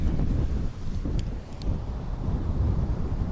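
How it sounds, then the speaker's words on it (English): Strong wind buffets the microphone in low, rumbling gusts on a street in Tbilisi, constant throughout with no voices. "God, it's windy."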